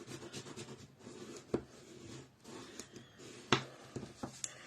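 A scoring tool drawn along paper to mark fold lines on a Stampin'Up card: soft, quiet scratching strokes with a couple of sharper taps and clicks.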